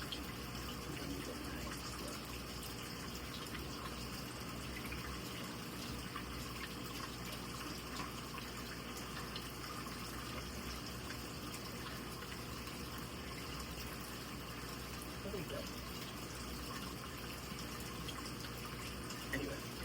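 Water pours steadily into an aquarium being set up with plants, a continuous low rushing and splashing that runs unbroken and fairly faint, with no voices.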